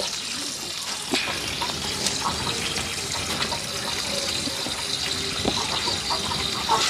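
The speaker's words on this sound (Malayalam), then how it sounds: "കുറേ വെള്ളം കളഞ്ഞിട്ട് ഇപ്പോൾ ദേ വീണ്ടും നല്ല വെള്ളം വീണ്ടും നിറച്ചു" Fresh water gushes steadily into a home aquarium after part of the clouded water was drained, a continuous close rushing pour with faint splashes throughout.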